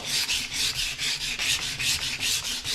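Body filler on a custom sheet metal hood being sanded with a flat board, a steady run of close, loud rasping strokes in an even back-and-forth rhythm, about four per second, with no voices.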